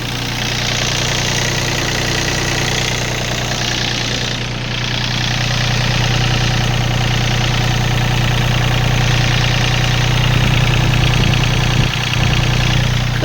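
The three-cylinder diesel engine of a used Yanmar 39-horsepower tractor idles steadily and loudly up close, a continuous low throbbing hum with no talk over it.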